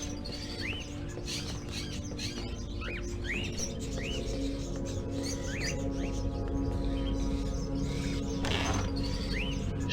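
Caged birds in the video game Indigo Prophecy chirp and call repeatedly, short rising calls spaced through a continuous low background drone, with no voices.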